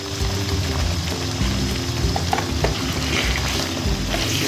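Chicken pota kaleji frying in ghee with garam masala, stirred steadily in the pan: a dense, continuous sizzle with scraping spoon strokes throughout, close and loud with no talking.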